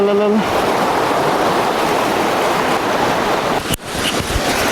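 Water rushes and splashes loudly and steadily, with surf-like wash and wind noise buffeting the microphone and a brief sharp break near the end.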